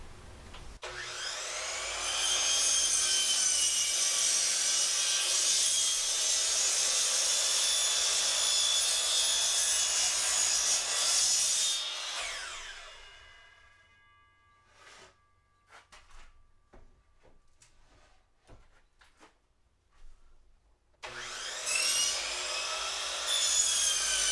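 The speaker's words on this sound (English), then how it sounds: "we might be able to use the sliding compound miter saw" A sliding compound miter saw cuts wood in an attic, its loud motor whine and blade bite running for about ten seconds before spinning down, followed by quiet handling knocks and a second cut starting up.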